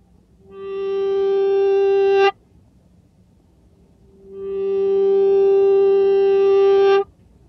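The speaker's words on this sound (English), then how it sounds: "Anytime you want that slow swell into sustain, just hold the EBow in place" Two sustained electric guitar notes driven by an EBow each swell slowly from silence into a loud, steady, harmonically rich sustain and then cut off abruptly, with a short quiet gap between them.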